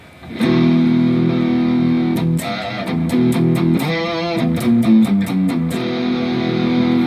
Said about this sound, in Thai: กดค้างไว้อีกทีนึงก็เป็นสวิตช์เปิดเสียงแตกนะครับ